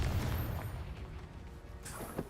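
A Confringo fire spell bursts in Hogwarts Legacy with a heavy, rumbling boom that fades into a noisy roar, followed by a softer crackling burst near the end.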